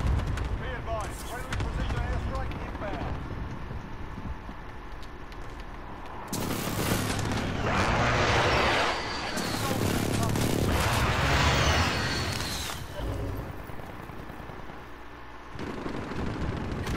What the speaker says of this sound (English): I'm finna airstrike the roof.